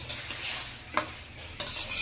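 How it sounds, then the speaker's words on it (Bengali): Soaked, drained rice is stirred and fried in hot ghee in a pan for chicken pulao, giving a soft steady sizzle with two or three brief clinks and scrapes of the spoon against the pan. "চালটাকে সমানভাবে নেড়ে নেড়ে ভাজতে হবে।"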